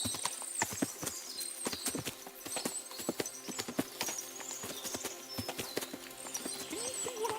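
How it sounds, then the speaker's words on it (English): Horses in the video game Kingdom Come: Deliverance II: a dense, continuous clatter of trotting hooves with an occasional whinny mixed in, moderately loud and steady throughout, with no voices. "What a lot of horses!"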